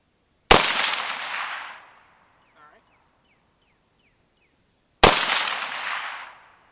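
Two loud, sharp gunshots from an Arsenal SLR-106F rifle about four seconds apart, each with a long rolling echo outdoors, and faint chirps from a distant bird between them.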